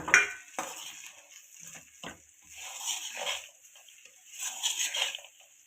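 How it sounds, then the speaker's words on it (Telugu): A spoon stirs fried peanuts, green chillies and curry leaves into okra fry in a pan, giving scattered clinks and scraping sweeps of metal on cookware, fairly close and quiet, with no talk. "సో వాటిని కూడా దీంట్లో యాడ్ చేసుకొని మిక్స్ చేసుకోవాలి"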